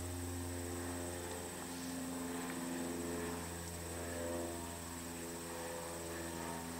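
A faint, steady drone of a distant aircraft hums continuously, with a low tonal whine and no voices.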